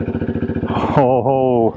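Husqvarna Svartpilen 401 motorcycle engine running while ridden, a rhythmic pulsing idle that rises into a loud, steady revving tone, with a person speaking briefly over it.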